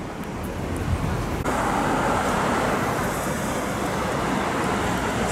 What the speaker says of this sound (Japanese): すごい自動車の数ですね